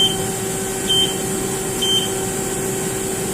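A CNC machine gives short electronic beeps as the jogged tool touches the part, two brief tones about a second apart over a steady machine hum and shop ambience.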